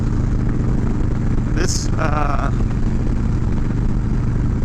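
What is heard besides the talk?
Harley-Davidson FXLRS motorcycle running with short exhaust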